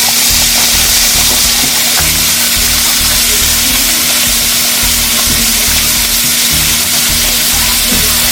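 Chicken and sausages browning in a pan for a homemade chicken, shrimp and sausage goulash, giving a steady, close sizzle with faint stirring clicks and no talk.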